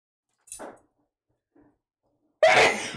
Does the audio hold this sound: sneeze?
yes